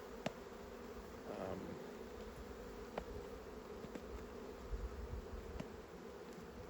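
A dense swarm of agitated honeybees at a hive buzzes continuously and loudly, a constant agitated hum with occasional sharper clicks, with no voices.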